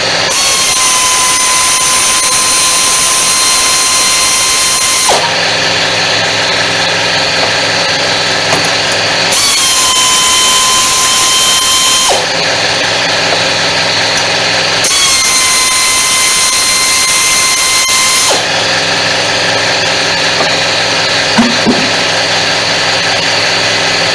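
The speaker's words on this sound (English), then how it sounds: "let me get my air impact, and we'll take this dust cover off" Air impact wrench taking a dust cover off a 1976 Ford LTD, loud and close, sounding in long sustained runs that alternate between two steady pitches with brief shifts, no talking.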